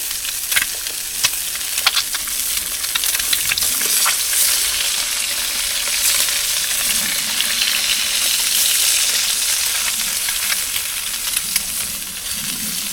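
An egg sizzles and fries steadily in a non-stick pan on a wild camping stove in the rain, with continuous crackling and spitting up close and no talking.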